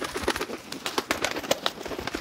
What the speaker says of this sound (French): Un pigeon qui vole.